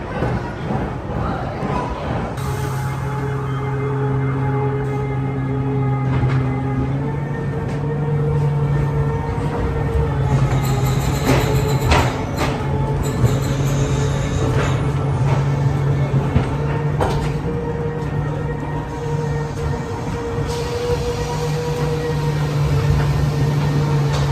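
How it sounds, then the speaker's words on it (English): A ghost train ride at Pleasure Beach Great Yarmouth rumbles along with a steady mechanical hum, sustained tones and scattered clanks and bangs, with voices faintly mixed in throughout. "So we've just been on a little ghost train."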